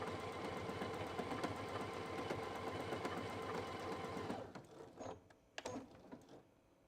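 A sewing machine works decorative stitches across a cathedral window quilt block, a rapid rattling run of stitches for about four seconds, then it stops, leaving a few isolated clicks and quiet handling sounds.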